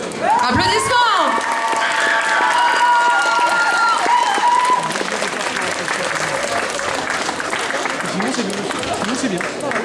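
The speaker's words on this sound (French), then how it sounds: "Applaudissements." Audience applause at a cosplay contest fills the hall, a steady wash of clapping and crowd noise lasting throughout, with voices and a tonal sound over the first half.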